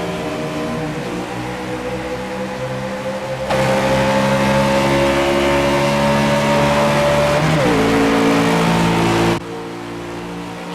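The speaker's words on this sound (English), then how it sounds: "Time to go green flag racing again." Race cars at a heat race take the green flag, a loud continuous engine roar with droning, shifting pitch that rises as the pack accelerates, then drops suddenly near the end.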